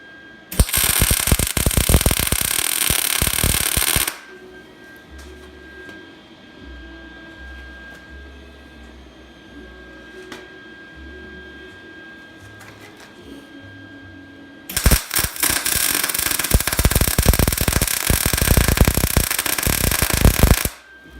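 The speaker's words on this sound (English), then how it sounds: "so now we're going to go ahead and plug weld these" Plug welding a plate on a 1983 Honda ATC 70, two loud crackling, buzzing bursts of several seconds each, with a quieter stretch of faint clicks and shuffling between them.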